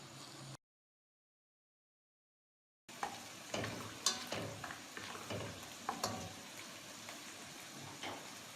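Sliced onions fry in a pan with a steady close sizzle and occasional scraping stirs, after a brief stretch of silence, with no talking.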